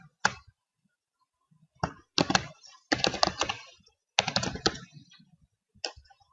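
Keys on a computer keyboard tapped in several short bursts of close, crisp clicks with brief pauses between, as a password is entered for a GPS vehicle-tracking web application; no talking.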